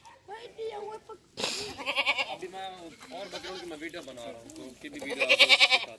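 Castrated male goats of about 50 kg on a farm bleat loudly and repeatedly at close range, several overlapping calls in quick bursts, with someone talking between them.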